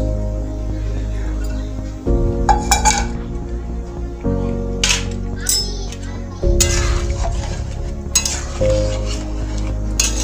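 Milk poured into a bottle gourd curry in a pan, with soft pouring and stirring clatter under low kitchen noise and light chatter in the background.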